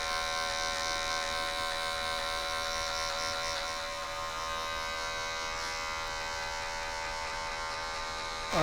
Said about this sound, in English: how I'm gonna do that is just by slowly closing the clipper until I reach all the way to nothing